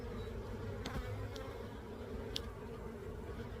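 Honey bees hum in a dense, steady drone at an opened beehive, close and continuous, with a few faint clicks from handling of the frames.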